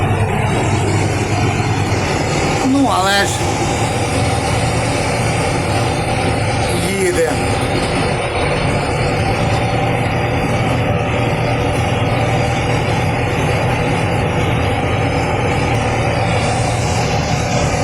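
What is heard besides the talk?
tractor engine running in field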